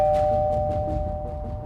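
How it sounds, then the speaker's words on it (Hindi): A home doorbell rings as one sustained electronic tone lasting under two seconds, fairly loud and close, over a low background hum, with no talking. "तभी डोरबेल बज गई"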